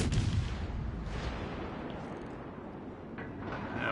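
Naval gunfire from an enemy USN destroyer in the video game World of Warships Legends, heavy booming shots with a strong low rumble at the start and further muffled blasts rolling in through the rest.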